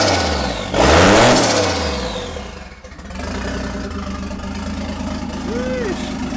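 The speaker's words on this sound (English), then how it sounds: "It's straight downpipe from the turbo, no exhaust on right now." A turbocharged engine with a straight downpipe and no exhaust revs up sharply and falls back, then idles loudly and raspily nearby, with a short whistling note near the end.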